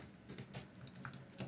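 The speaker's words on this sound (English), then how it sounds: "now we simply just type in the subtask summary" Fingers typing a subtask summary on a computer keyboard, a quick irregular run of soft clicking keystrokes, close but quiet.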